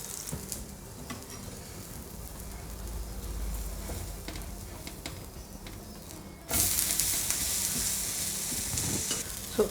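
Kambu dosa batter fries on a hot griddle with a teaspoon of oil at medium-high heat, a steady close sizzle that jumps to a louder, brighter hiss partway through.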